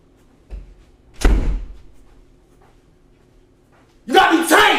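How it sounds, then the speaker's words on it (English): An indoor door is pushed shut with a soft knock followed by a heavier thud, then a voice begins speaking a few seconds later. "Close this fucking door,"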